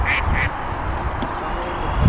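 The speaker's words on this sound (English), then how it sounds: "Let's go see the duck." A duck quacks loudly and close by, two quick quacks at the start followed by quieter outdoor ambience and a low thump near the end.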